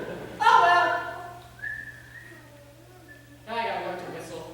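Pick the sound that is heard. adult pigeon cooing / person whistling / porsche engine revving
person whistling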